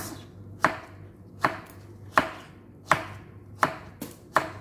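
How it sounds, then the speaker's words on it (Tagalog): Knife slicing zucchini thinly on a cutting board, seven crisp chops at a slow, steady pace, close and fairly quiet, with no talking. "So ganyan, hiwain natin siya ng maninipis."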